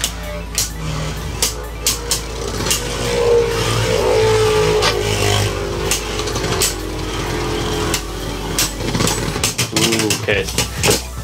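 Left-spin Beyblades, Spriggan Requiem and Drain Fafnir, hand-launched and battling in a stadium, giving a steady whirring, clattering rattle with sharp clicks of collision throughout, fairly loud and close, with voices in the background.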